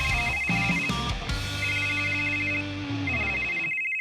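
A phone ringtone chimes for incoming WhatsApp messages, a bright repeating electronic melody with steady tonal notes, clear and close, heard alone for a few seconds.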